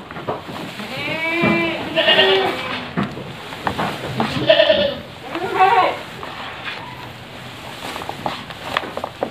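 Goats bleat repeatedly in wavering, nasal cries at close range, several calls overlapping against a busy farmyard background.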